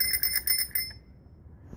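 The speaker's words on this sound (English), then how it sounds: "And you've got the bell." Next Bike rental bicycle bell rung in a quick series of bright metallic dings for about a second, then fading out, close and clear with no talking.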